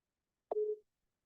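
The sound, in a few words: telephone call tone while dialing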